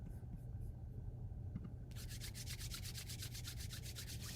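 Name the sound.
palms rubbing together briskly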